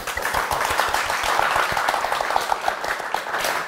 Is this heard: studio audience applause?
yes